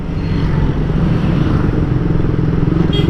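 A 150cc moped-style motorcycle is ridden in Manila, its engine a loud, steady throbbing drone heard up close and continuing without a break.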